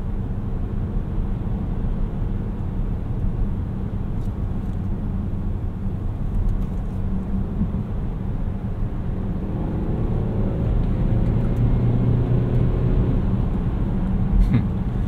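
A 2019 Volvo S90 T5 Momentum rolls over freshly repaved road, heard from inside the cabin as a steady, smooth low rumble of tires and engine that swells slightly toward the end.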